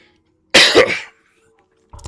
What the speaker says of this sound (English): I've had a weird cough slash throat clear situation going on since the beginning of the week.